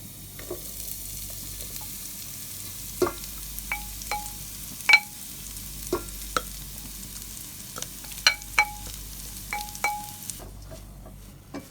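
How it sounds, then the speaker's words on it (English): Kale leaves fry and get stirred in a pan with oil and chili flakes, a steady close sizzle broken by sharp clinks of a utensil scraping and tapping the pan at an uneven pace, with no talking. "Now I'm going to add the kale leaves to this."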